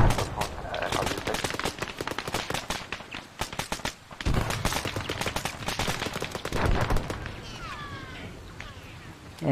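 Rapid gunfire bursts in a military shooter video game, dense volleys of automatic shots cracking in quick succession, loud and close with brief gaps, ending with a few whizzing ricochet-like sounds.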